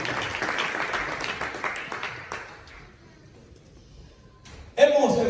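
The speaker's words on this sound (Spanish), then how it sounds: "quiero que usted le dé palmas al Señor" A church congregation claps in praise of the Lord during an evangelical service, a dense wash of applause that fades to quiet by midway, followed by a sudden loud burst of sound near the end.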